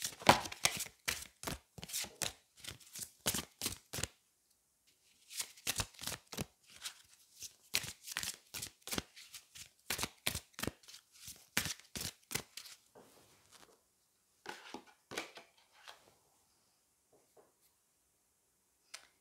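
Angel oracle cards are shuffled and drawn close up, producing rapid crisp flicking and snapping bursts in quick runs with short gaps, then thinning to sparser taps near the end, with no voice.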